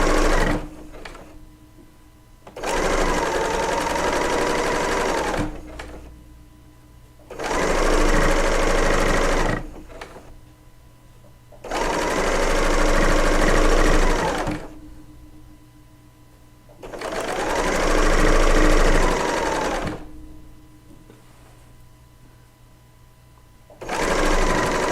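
A serger stitches five quilt fabric strips together in four long steady runs separated by quiet pauses. It is loud and close, with an even mechanical whir and no talking.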